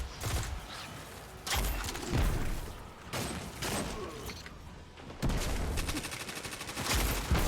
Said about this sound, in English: pulse carbine is a weapon originally used by the Enemy Covenant team